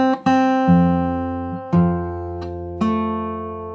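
Fingerstyle acoustic guitar plays a song's chord pattern slowly, with about five plucked attacks, bass notes and chords ringing and decaying between them, close and alone.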